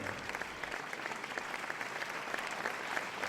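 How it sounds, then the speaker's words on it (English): A crowd applauds for Beaver Brewing at an event, sending up a continuous patter of clapping hands that stays fairly quiet and distant throughout. "let's give another big round of applause for Beaver"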